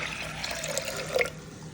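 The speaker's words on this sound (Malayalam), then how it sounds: "2 കപ്പ് വെള്ളം കൂടി ഒഴിക്കാം." Water pours steadily into a pressure cooker, a continuous splashing trickle heard up close with no talking.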